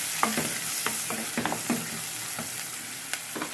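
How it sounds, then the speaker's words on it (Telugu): Turmeric being stirred into a frying mixture in a pan, a spoon scraping and clinking in repeated short strokes over a steady close sizzle, no voices. "కొంచెం పసుపు వేసి కలుపుకుంటున్నాం"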